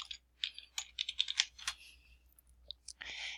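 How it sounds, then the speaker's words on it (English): Someone types on a computer keyboard, giving a quick cluster of close, light key clicks followed by a pause and a few scattered taps, with faint speech in the background. "type contracts management in the search field"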